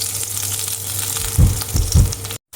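Crushed ginger and garlic frying in hot sunflower oil, a steady close sizzle with two heavier thuds as they are stirred, then a brief cut to silence.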